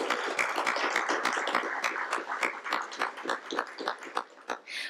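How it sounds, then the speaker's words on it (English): Audience at a youth civics council meeting applauding students, a burst of irregular clapping from a modest crowd that thins and fades toward the end. "can we get another round of applause for the students?"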